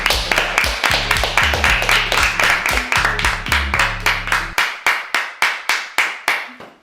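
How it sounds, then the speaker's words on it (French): A small group claps in rhythmic, evenly spaced beats to applaud a YouTuber passing 200,000 subscribers; the claps are close and sharp, with low tonal background sound under the first part, then the claps go on alone. "Je pense qu'on peut l'applaudir."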